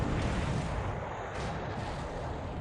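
Naval guns firing from warships in a Pacific carrier-war strategy game, a dense continuous rumbling barrage of booms that fills the whole stretch at steady loudness, with no voices.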